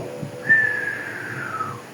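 A person whistles a single long descending tone, imitating a thrown stone flying through the air, sliding down in pitch over about a second.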